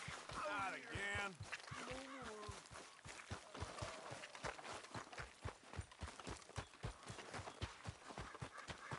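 Horse hooves clip-clopping at a steady walking rhythm in Red Dead Redemption 2, a continuous series of soft close thuds, with a voice speaking briefly over the start.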